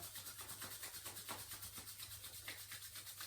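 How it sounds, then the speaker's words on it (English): Hands rub together in a seated yoga practice, a soft, quiet, rhythmic swishing of skin repeating in quick even strokes, alone and close. "Let's rub the hands together,"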